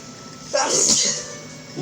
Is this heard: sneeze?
yes